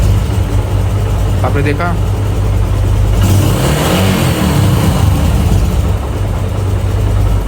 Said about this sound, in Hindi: ऊपर गई, नॉर्मल स्पीड से नीचे आई और अपने जो आरपीएम है आइडल के उस पे आके रुक गई।